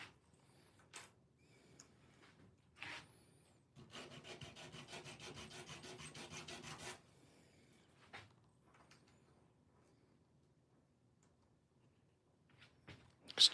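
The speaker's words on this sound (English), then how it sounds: "So let's hand sand it. I'm just going to hand sand it." Hand sanding of a handmade acrylic piece, a dense scratchy rubbing burst lasting about three seconds in a quiet room, framed by a few scattered knocks and handling clicks.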